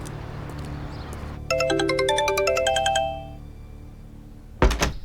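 A mobile phone ringtone plays a bright, repeating electronic melody close by for about two seconds in a domestic drama scene, then fades, followed by a short thump.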